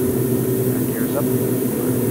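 A steady, loud aircraft engine drones during the climb after takeoff from Eareckson, Alaska, with cabin chatter between the pilots over the constant roar.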